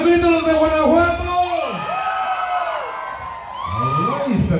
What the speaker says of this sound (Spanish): ¡A ver, un grito los de Guanajuato!